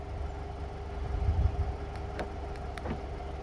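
A 2023 Nissan Altima idles with a low, even engine hum close by, joined by a few faint clicks and a brief swell partway through.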